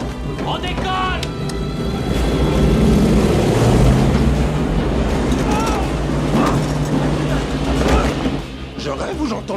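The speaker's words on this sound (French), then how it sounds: "Je rêve ou j'entends le bruit d'un avion, là?" Airplane engine drone in an action film scene from Con Air, a steady low rumble rising and sustained throughout, mixed under dialogue and music-like tones, loud and continuous.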